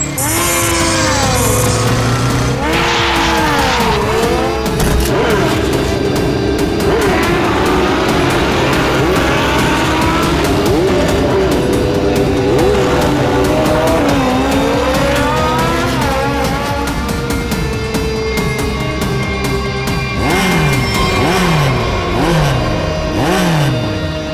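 Motorbike race with engines revving hard, rising and falling pitch sweeps from several machines, and squealing tires, loud and continuous with no voices.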